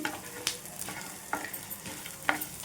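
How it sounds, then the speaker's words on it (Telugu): Lentils and dals sizzle in a pan over a medium flame while roasting for gongura chutney, a soft steady frying hiss broken by a few sharp stirring scrapes. "ఫ్లేమ్ మీడియంలో పెట్టేసుకొని పప్పులన్నీ కూడా వేయించుకుందాం."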